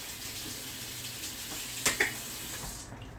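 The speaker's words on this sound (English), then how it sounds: "let me rinse that off. It's got cauliflower on it." Tap water runs quietly over a utensil to rinse off cauliflower in a home kitchen, a faint steady hiss with a couple of brief louder splashes near the end.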